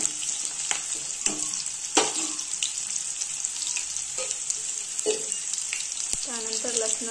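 Onions sautéing with chilli in a pan until reddish brown give a steady close sizzle, broken by scattered scraping strokes of a spoon and light clinks throughout.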